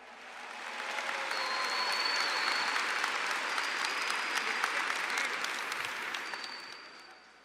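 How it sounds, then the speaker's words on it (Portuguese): An audience applauds at a church sermon, dense clapping rising over the first second, holding steady, then tapering off near the end, with faint voices and cheers mixed in. "Pode aplaudir quem está me ouvindo"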